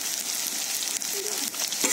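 Ginger-garlic paste with spices sizzles steadily in hot oil in a pan, a continuous close frying hiss with faint scraping of a spatula, no voices.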